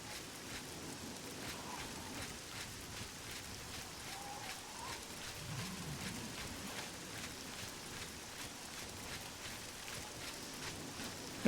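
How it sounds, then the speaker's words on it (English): Rain falling in the game Oblivion, a soft continuous patter with faint repeated drop ticks, quiet and even throughout with no talking. "And it's raining."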